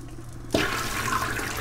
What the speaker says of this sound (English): Let's press the flush button.